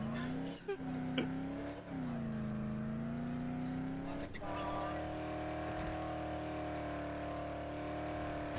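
Video game car engine droning steadily throughout, its pitch bending and shifting as the car is driven clumsily, with a couple of brief bumps early on and a louder, steadier engine tone in the second half.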